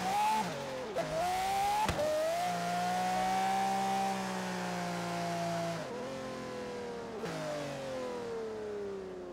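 A yellow Lamborghini sounds its engine on an outback road in a driving game, giving a steady, tonal mid-pitched rev. Pitch rises and falls through gear changes as the car passes, loud and alone with no talk.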